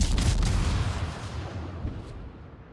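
Naval gunfire from a warship video game, with a heavy booming shot that rumbles and decays over a couple of seconds, loud and alone.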